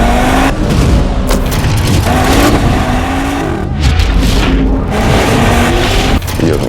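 A Cupra Formentor VZ5 in drift mode runs loud and close, its engine revving in repeated rising and falling bursts with a gritty, steady roar and no talking.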